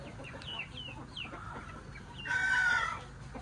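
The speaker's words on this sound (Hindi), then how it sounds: "ये जी वाइट शामू के चूजे हैं मेरे माशाल्लाह। अभी इनके माँ बाप आ रहे हैं" White Shamo chicks peep faintly at first, then a louder, short crowing call from an adult bird rises above the background noise.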